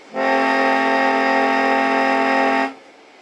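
A Bontempi chord organ sounds a single sustained reedy chord, loud and steady for about two and a half seconds before cutting off cleanly, with no talking.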